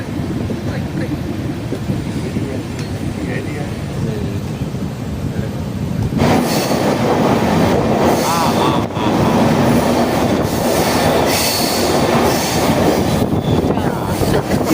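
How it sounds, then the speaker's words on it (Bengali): A passenger train runs after an engine change and reversal, with a loud, steady rumble of wheels on rails and clattering carriages, plus a sudden rise in noise midway through. "ইঞ্জিন বদল হয়ে ট্রেন দিক পাল্টে নেয়।"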